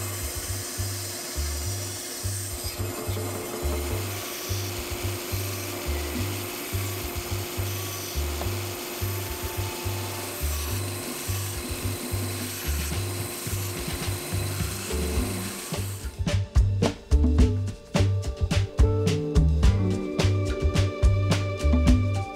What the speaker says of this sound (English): To actually set up the cut, I used a fence on the bandsaw.